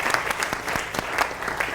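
Live audience applauding at a screenplay reading in Los Angeles, a steady wash of many hands clapping with sharp individual claps standing out, continuous and moderately loud throughout.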